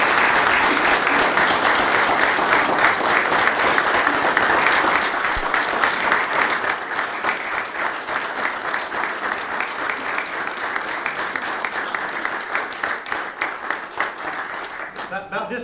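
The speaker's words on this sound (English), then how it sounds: "Let's give them a round of applause." County commission meeting audience applauding a girls' state championship team: dense, loud clapping at first that eases into a steadier, thinner patter, with voices mixed in throughout.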